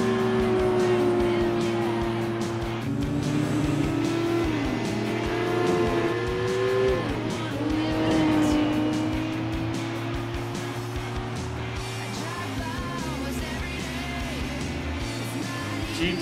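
Nissan Skyline GT-R LM race car engine in Gran Turismo 4, a sustained droning engine note with shifting pitch as it revs and changes gear, steady and fairly loud throughout alongside other race cars, with background game music.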